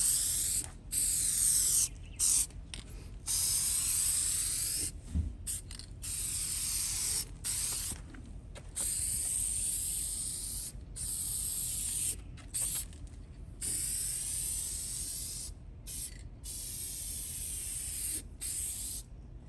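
Hyper Dip rubber coating sprayed from an aerosol can over an antenna's chrome, a steady loud hiss in long continuous bursts broken by brief pauses, with no voices.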